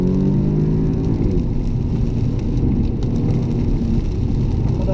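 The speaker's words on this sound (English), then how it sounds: "see if you can hear the engine," A 2014 Audi S3 8V in sport gearbox mode drones loudly and steadily from inside the cabin while driving, with the engine tone rising slightly and no one talking.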